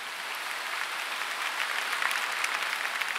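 A church congregation claps together during a sermon, producing a continuous, even spread of many hands that swells slightly toward the end, with no talking over it.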